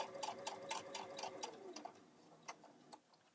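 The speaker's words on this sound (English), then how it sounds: "And I did do a back stitch there." Sewing machine running a back stitch through thick layers of a bag, a soft rhythmic run of quick ticks that slows and trails into a few separate clicks, quiet and close.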